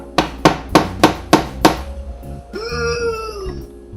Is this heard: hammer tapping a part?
yes